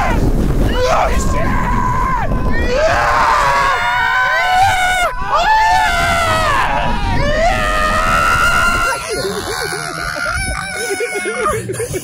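Loud screams and excited shouting from riders on a theme park ride in California, sustained yelling rising and falling over rumbling ride noise for most of the stretch, with a quieter patch near the end.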